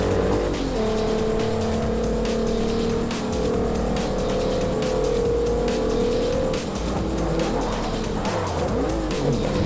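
Racing car engine roars steadily with a sustained tire squeal and skidding in Forza 4, a 500 horsepower car among much slower 63 horsepower rivals, loud and continuous with no talking.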